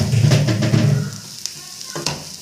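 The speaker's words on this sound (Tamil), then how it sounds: "நல்லா அந்த மாதிரி கலந்து விடுங்க." Vermicelli (semiya) stirred in a hot pan with chilli powder for a fish semiya dish, a loud close sizzle with scraping stir strokes that fades toward the end.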